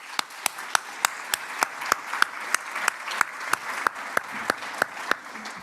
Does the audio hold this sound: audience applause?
yes